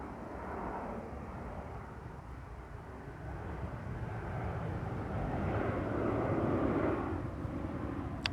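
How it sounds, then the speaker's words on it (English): A low-flying airplane passes near a small rural church in Essex, a faint broad roar that swells gradually toward the end, with no talk. "Now you'll see just how close these planes come to where this church is."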